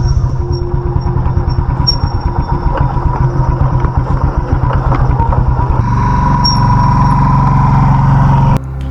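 A motorcycle ridden in Bukidnon while practising declutching: the engine putters in a rapid close rhythm, then rises to a steadier, higher-revving drone before cutting off near the end.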